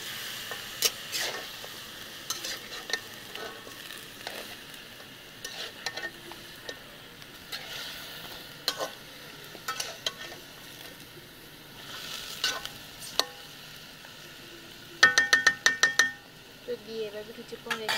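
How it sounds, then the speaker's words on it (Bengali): Chicken meat and onions frying in a pan, a steady soft sizzle with stirring scrapes and a quick burst of utensil clinks near the end. "একটু আয়ত্ত ভেজে নেব পেঁয়াজের সাথে মাংসগুলোকে"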